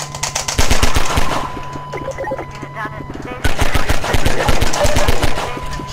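Gunfire in the video game Half-Life, with loud rapid bursts of automatic shots in two long volleys and a brief lull between them. A voice speaks in the background.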